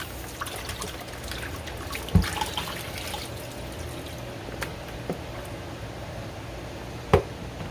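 Raw chicken wings rinsed under a running kitchen tap, a steady low wash of water with a few sharp knocks and splashes as the meat is handled, with no talking.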